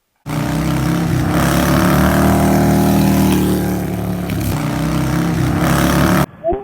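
A Harley-Davidson motorcycle engine drones steadily throughout a ride, loud and close with a continuous low rumble and slight swells in pitch, cutting off abruptly near the end.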